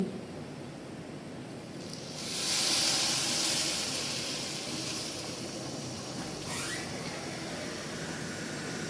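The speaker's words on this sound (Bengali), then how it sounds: "ভাজা প্রায় শেষ পর্যায়ে এসে গেছে এখন আমি ফুটন্ত পানি দিয়ে দেব" Boiling water poured into a pan of frying pulao rice, a steady broad hiss that swells into a louder burst of steam, then settles back into a constant sizzle.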